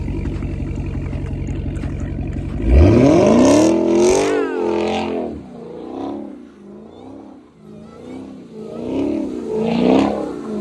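Dodge Hellcat revving hard while sliding in snow: a steady rumble gives way to a loud rising engine sweep, then repeated surging revs rise and fall, with voices speaking over the engine.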